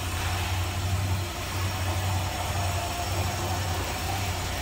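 A 1972 Dodge Charger SE's V8 with a four-barrel Holley carburetor idles smoothly, giving a steady, even low rumble up close with no voices.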